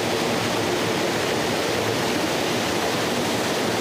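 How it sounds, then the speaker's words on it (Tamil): Water pouring over a river waterfall into a natural forest pool, a steady, loud, broadband rush of falling water with no pauses and no voices. "தண்ணி விழுகிறது அப்படியே ஃபால்ஸ் மாதிரி ஒரு நல்லா விழுகுதுங்க"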